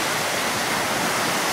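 Ocean waves at the beach at Myrtle Beach make a loud, continuous wash of surf, steady and broadband with no distinct breaks, and no voices are heard.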